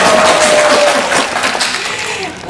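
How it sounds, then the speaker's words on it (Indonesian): Audience applause welcoming a guest professor, a brief wash of clapping that is loud at first and thins out over a couple of seconds, with a faint tone underneath. "Tepuk tangan sak stasiun."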